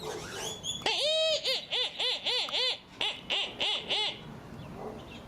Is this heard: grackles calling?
yes